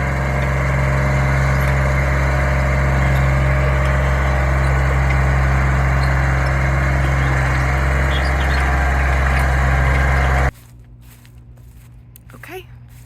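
A tractor engine drones steadily and loudly up close while tilling an in-ground garden, then cuts out abruptly, leaving a quieter background with faint rustling.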